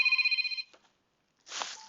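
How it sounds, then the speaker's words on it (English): A telephone ring, steady and repeating for about half a second, followed by a short pause and then a brighter electronic ringtone burst. Both are close and clear, and no one speaks over them. "My phone's ringing and I don't know who it is,"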